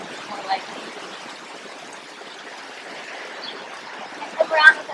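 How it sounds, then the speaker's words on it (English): A soft, steady wash of outdoor waves or wind runs faint and continuous throughout, with a couple of brief brighter swells near the end. "You're going to listen to the sound of the waves, or the wind, more likely."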